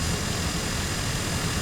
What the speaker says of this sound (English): It's got the Pratt and Whitney PT6A turbine engine